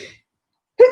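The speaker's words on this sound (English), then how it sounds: "I'm going to sneeze in a minute." A single sudden sneeze bursts out after a short pause that follows a bit of speech, loud and close, with nothing else around it.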